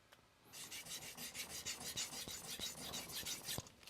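A Kohetsu HAP40 210mm gyuto knife drawn over a King NEO 800 whetstone, giving a steady, rapid run of gritty rasping strokes, close and continuous, with no voice.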